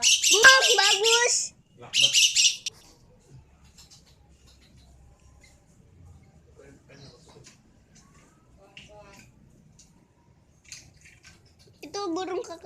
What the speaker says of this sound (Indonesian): Itu burung kakak tua.